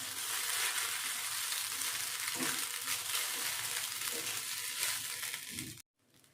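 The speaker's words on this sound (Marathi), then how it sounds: "आता तो शेंगदाण्याचा कूट घालते आणि छान मिक्स करून घेते" Crushed roasted peanuts being mixed into sabudana in a pan, a dense continuous frying hiss with rough scraping stirs, close and steady, cutting off abruptly near the end.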